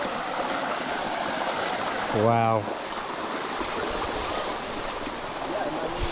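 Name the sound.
waterfall and stream water flowing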